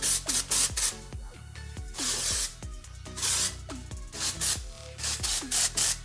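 Dry shampoo sprayed into hair to add grit for curled beach waves, heard as a series of loud, close aerosol hisses in short bursts with brief pauses between them, no voices.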